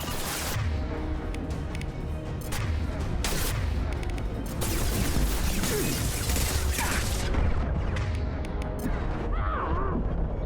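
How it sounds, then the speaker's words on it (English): Dense, continuous combat in Mass Effect 2: rapid gunfire bursts and booms layered over a loud, busy mix, with occasional voices in the background. "Might not be smart to stand in the middle of gunfire."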